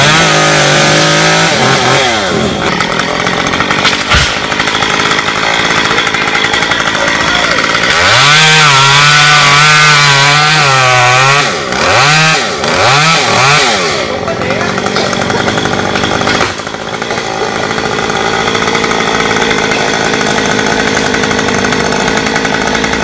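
A chainsaw revs and cuts into a fruit-laden star apple tree, the loud engine rising and falling through repeated throttle surges and long steady cutting passes, with people talking over it.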